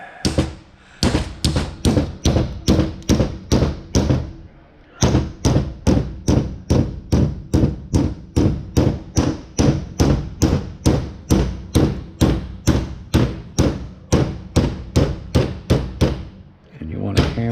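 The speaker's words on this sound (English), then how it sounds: "And you want to hammer it down to where it's like that." Hammer blows pounding down a bent base plate during a transformer teardown, a long steady series of loud, close metallic strikes at a fast, even rhythm with one brief pause after the first few hits.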